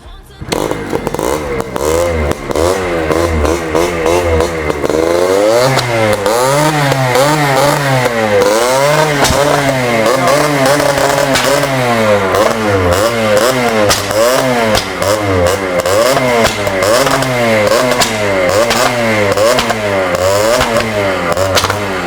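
Loud two-stroke motorcycle engine, a five-speed bike, revving hard and repeatedly in rising and falling bursts with a crackling exhaust, continuous for about twenty seconds with no talk over it.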